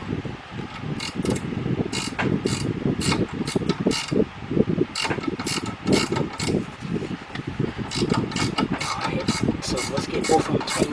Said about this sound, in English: I'm going to be using a speed wrench because on this side you can only get a speed wrench on that nut